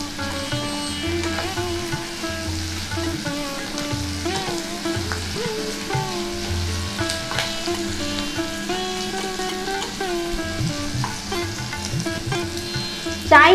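Onion pieces fry in a pan for restaurant-style chow mein gravy noodles, a steady loud sizzle with occasional stirring scrapes, continuous throughout and without talking.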